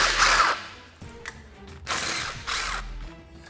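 A power tool works on the factory frame bolts of a Polaris RZR during a winch install. Several bursts of whirring and ratcheting are broken by brief mechanical clicks, close and moderately loud.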